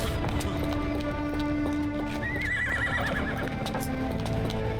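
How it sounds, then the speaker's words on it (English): A horse whinnies and its hooves clip-clop in a harbor area in the video game Sherlock Holmes The Awakened. The neigh is loud and close against steady background noise. "Love the horse just sitting around."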